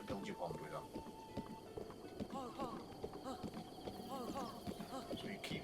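Horse hooves clip-clop across the ground in the video game The Legend of Zelda: Breath of the Wild, a steady rhythmic trot heard under someone talking and game sounds.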